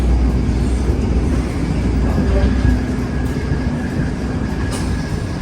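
Steady low rumble fills the cabin of a running high-speed bullet train, continuous and fairly loud throughout, with faint background murmur mixed in.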